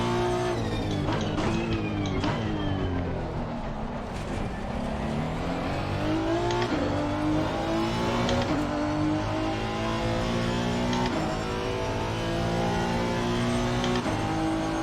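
A 2018 Honda NSX race car with a mid-mounted engine drives at Spa in the Assetto Corsa Competizione racing game, its engine droning steadily and rising and falling through gear shifts, loud and continuous for the whole stretch.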